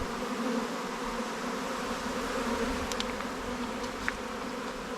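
A steady buzzing drone of a large swarm of honeybees flying in September hums continuously, fairly faint and even, with a couple of brief higher chirps near the middle.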